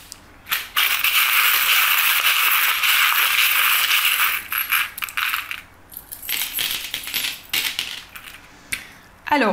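Small divination charms are tossed and shaken, a dense loud metallic jingle and rattle like dropped coins that pours out continuously, then breaks into scattered clinks and taps as the pieces settle.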